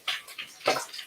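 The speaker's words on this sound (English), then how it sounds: "I'm just going to pour my veg into the pot with my meats" Chopped vegetables poured into a cooking pot with meat, giving a few soft clattering, rustling impacts in quick succession, close and fairly quiet.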